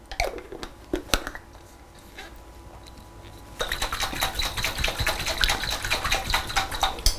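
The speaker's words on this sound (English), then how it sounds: "And then I'm going to give it a good shake." A jar of salad dressing made from oil, lemon juice, salt and pepper clicks and clatters as it is handled, then is shaken hard, a steady close rattling slosh for several seconds.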